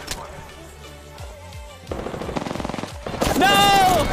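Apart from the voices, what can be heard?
Havoc machine gun fire in a shooter video game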